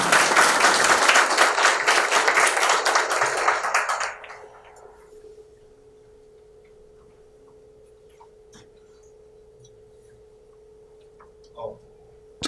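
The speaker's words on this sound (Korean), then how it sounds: "뜨거운 박수로 성원해 주시기 바랍니다" An audience at a civic education seminar applauds to welcome a professor, a brisk burst of clapping for about four seconds that stops abruptly, leaving a quiet room with a faint steady hum and a small knock near the end.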